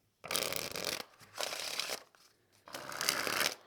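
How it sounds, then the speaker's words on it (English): A deck of playing cards is riffle shuffled and bridged up close: three separate bursts of rapid, fluttering card riffles, each lasting about a second, with brief quiet gaps between them and no voices. "From here, you riffle the two packets together. Then you bend the cards up like this and let go, and then the cards will bridge."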